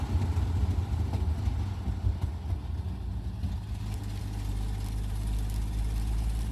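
A 1953 Hudson Super Wasp rolling downhill and being downshifted, its engine a steady low rumble with a slight shift in tone partway through, close and continuous with no talking.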